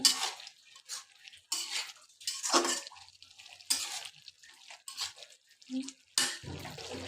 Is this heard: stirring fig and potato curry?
yes